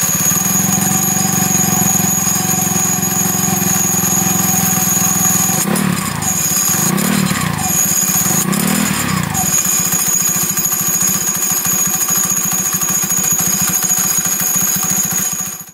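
Vespa Matic racing scooter with a Reveno clutch bowl, its CVT dry clutch running steadily and loud throughout, with a few swelling rattly surges midway that ease back to a constant mechanical drone.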